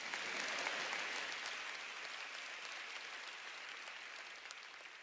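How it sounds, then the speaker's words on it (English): Large audience applauding at a motivational speaking event in Singapore, a broad hall-filling roar of clapping that swells early then settles into a steady, slightly fading wash, heard at a moderate distance with no voices on top. "you can applaud that if you want"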